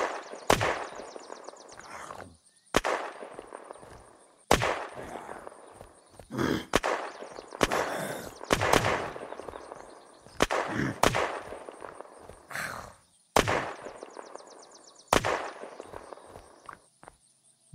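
Sharp AK-47 gunshots in the video game Unturned ring out in separate bursts every couple of seconds, some in quick rapid-fire runs, loud and close with game-like effects between them.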